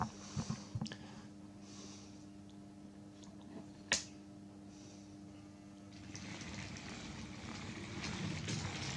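A Triang R153 saddle tank model locomotive fitted with a new motor runs on a small shunting layout, giving a low steady electric hum with a few sharp clicks early on and a louder whirr building toward the end.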